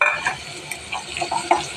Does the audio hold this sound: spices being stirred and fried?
yes